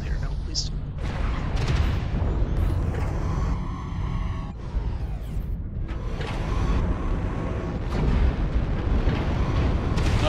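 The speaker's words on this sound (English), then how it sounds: "Artillery." Artillery strike explosions in MechWarrior Online come as heavy rumbling booms and a roaring, sweeping blast through the middle, over constant loud mech engine noise, with a voice speaking briefly.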